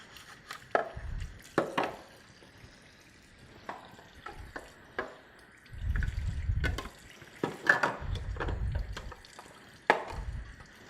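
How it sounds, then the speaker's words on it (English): Water runs intermittently as the plastic top assembly of a ViDiA centrifugal juicer is rinsed under a faucet, with faint splashing bursts, soft knocks and handling sounds throughout. "you don't want to forget to clean the top assembly. Just rinse it out."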